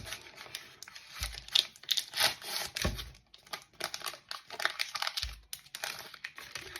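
A Dubai chocolate bar wrapper being opened by hand, producing close, crisp crinkling and rustling with sharp tearing snaps in irregular bursts.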